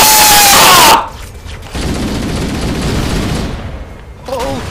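Gunfire and explosions in a Halo firefight, starting with a loud, dense burst of noise that cuts off, followed by a steady rumbling of battle and a voice speaking briefly near the end.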